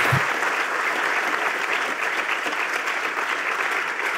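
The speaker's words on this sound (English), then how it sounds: "please, a big round of applause again for Thomas" An audience at a bioinformatics award ceremony gives a round of applause for an award recipient, a full, sustained wash of clapping that holds steady throughout.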